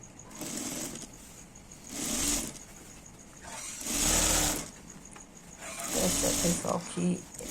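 A sewing machine stitches the other side of a fabric piece in several short bursts of buzzing running, with pauses between them and a voice speaking over part of it.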